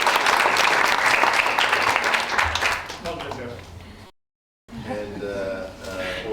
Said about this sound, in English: So I would like all of us to give him a round of